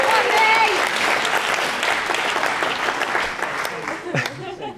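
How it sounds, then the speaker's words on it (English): Wedding guests break into hearty applause, dense steady clapping that tapers slightly near the end, with cheers mixed in. "I actually think she deserves a fucking massive round of applause"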